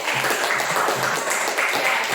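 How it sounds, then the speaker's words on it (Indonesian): Classmates in a classroom applaud a student, a dense, steady patter of small hands clapping at close range for a couple of seconds with no voices over it. "Nah, tepuk tangan untuk Jennifer."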